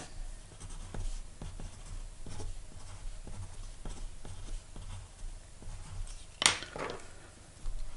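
A pen scratches across paper while drawing a geometry sketch of a triangle, making soft, close, irregular strokes with light taps and scrapes, and one brief sharp noise partway through.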